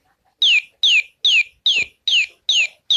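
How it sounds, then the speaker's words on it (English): A blue Furby Connect toy plays a bird tweet: seven loud, evenly spaced chirps, each a quick falling whistle, repeating in a steady rhythm with nothing else heard. "It's actually a tweet sound that you can play with it."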